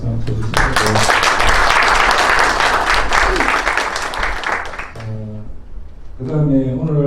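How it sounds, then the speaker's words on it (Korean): Audience at an academic seminar on private investigation breaks into loud, dense applause lasting several seconds, then it fades and someone speaks into a microphone over a brief, lighter patter of clapping. "뒤에 계시는데 박수 한번 쳐주세요."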